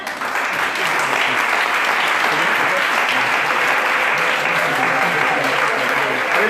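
Church congregation applauding to acclaim the Lord during a worship service, a loud, dense and steady wash of clapping from a large crowd that continues unbroken throughout.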